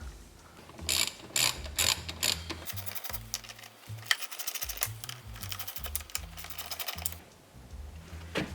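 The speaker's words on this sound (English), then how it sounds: "And then we're just going to pull out these 4 10mm bolts, the hinge bolts." A hand ratchet loosens the four 10mm hinge bolts on a crashed Chevy Volt door, giving close, rapid clicking bursts in short repeated runs with brief pauses between them.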